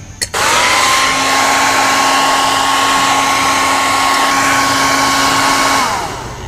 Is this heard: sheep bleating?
no